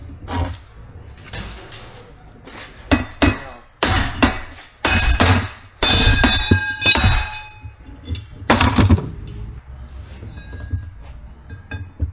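A hammer strikes a metal gearbox part of an Amazone ZGB spreader in irregular bursts of sharp clanks and taps, some ringing briefly, with quieter handling noise between the blows.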